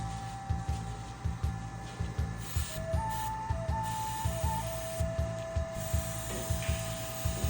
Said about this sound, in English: Always good to turn your compressor on.